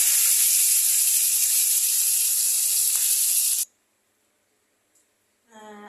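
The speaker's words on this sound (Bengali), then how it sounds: "আমি এই মাছগুলোকে আগে হালকা করে অল্প ভেজে নেব" Tangra fish fry lightly in hot oil in a wok, giving a loud, steady sizzling hiss that cuts off abruptly after a few seconds, followed by near silence and a short voice at the end.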